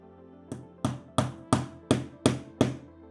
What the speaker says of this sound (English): so I just hammered them in.